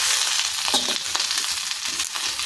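Curry leaves fry in a pan for curry leaves powder, giving a continuous crackling sizzle with a few brief stirring scrapes. Close and steady, with no speech.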